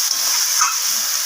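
Chana paneer masala sizzling as it is sautéed in hot oil with green chillies, a steady close hiss running without a break.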